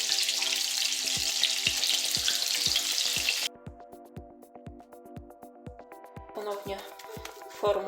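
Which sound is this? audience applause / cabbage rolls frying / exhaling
cabbage rolls frying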